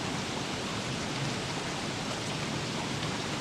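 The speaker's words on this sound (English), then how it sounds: "And this rain is doing me no good." Steady, even rain hiss from the video game Don't Starve, soft and continuous with no distinct thunder, no breaks and no voices.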